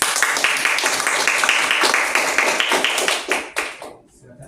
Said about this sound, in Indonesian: Beri aplaus kepada hakim.